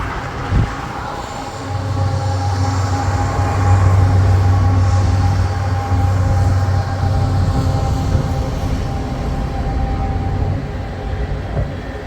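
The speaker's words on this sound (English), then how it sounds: "Now here comes the train." A CN freight train with three locomotives and 195 cars rolls past near Moncton's Gordon Yard, a loud steady rumble of wheels and cars with a low engine drone, close by and continuous with no voices.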